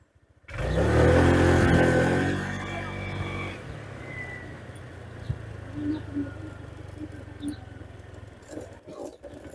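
A motorcycle carrying a child passenger pulls away in a brief loud surge of engine revving that fades into steady, quieter road and wind noise.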